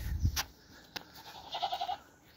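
Goats bleat in front of their shelter on a farm, a couple of short, fairly faint calls after a brief low thump.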